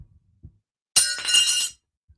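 A single sharp crash as a hard object drops onto a surface, with a bright rattling, glassy clatter that rings briefly before stopping.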